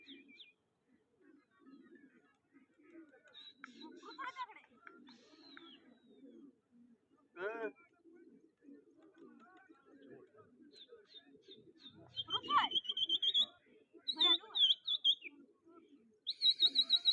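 Scattered pigeon calls and chirps, some coo-like, sound over a faint murmur of background voices, growing busier and louder toward the end.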